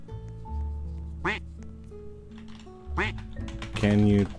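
A cartoonish duck in Roblox Lumber Tycoon 2 gives several loud, close quacks in bursts among game sounds and tones, with a voice talking over it.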